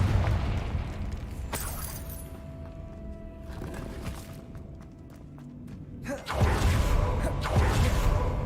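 A Confringo blasting spell explodes in Hogwarts Legacy inside an abandoned, cave-in-prone mine: a sharp burst, then a loud rumbling blast that swells near the end over a low, steady game ambience.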